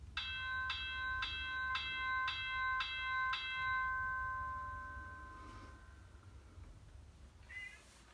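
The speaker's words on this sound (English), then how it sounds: "you can hear the gong bell" A bright metallic gong bell from a Tsunami2 sound decoder in a MoPac U-30C model locomotive rings six times in a steady rhythm, each strike ringing out, followed by a fading tone over a low rumbling background.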